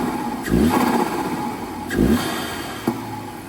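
An Audi A4 turbo engine fitted with a cold air intake runs close by, rising in a few short revs over a steady idle rumble, with a light click near the end.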